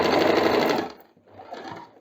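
An Usha Janome Wonder Stitch sewing machine stitches in a fast, close mechanical whirr that stops abruptly, then runs again briefly at lower level.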